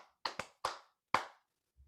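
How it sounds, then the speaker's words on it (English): Four sharp hand claps ring out close and alone in a quiet room, the first two quick together, then one, then a last after a pause, each with a short decay. "there's something, if I clap,"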